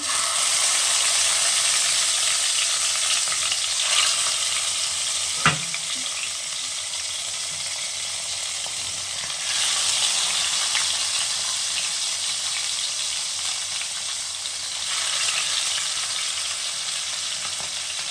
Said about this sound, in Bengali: কড়াতে সর্ষের তেল দিয়ে দিয়েছি এবার চিতল মাছটা ভেজে নিচ্ছি